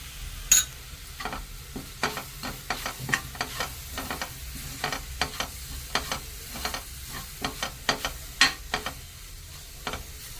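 A spatula scrapes a pan in quick, irregular strokes while a ground spice powder of fenugreek and dried coconut is dry-roasted, with soft crackle between the scrapes and no talk.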